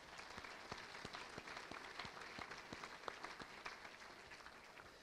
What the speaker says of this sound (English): thankful round of applause.